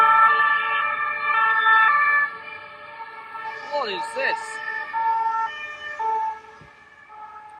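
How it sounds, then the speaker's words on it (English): A wailing police siren sweeps up and down over steady traffic hum on a Paris city street, with a brief spoken question over it. "It is just non-stop undercover police and sirens and all sorts of things already."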